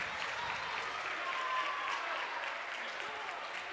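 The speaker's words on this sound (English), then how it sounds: "And he gets a nice ovation." Basketball crowd at a St. Joseph versus Wildwood Catholic game giving a player an ovation, sustained clapping from the stands, fairly distant and even.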